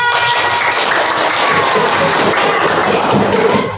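Dense, continuous applause from a group fills the whole stretch at a steady loud level, with no voices rising above it, following a classroom presentation on the stages of a butterfly's life cycle.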